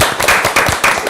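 Audience members at a youth-artists debate forum clap loudly and close by, a quick rhythmic patter of hands in short bursts.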